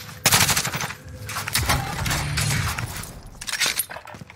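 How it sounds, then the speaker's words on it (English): Gunfire in Call of Duty Warzone, loud rattling bursts of automatic fire with sharp crackling impacts, coming in several clusters with brief gaps between them. "I'm getting shot from every single direction."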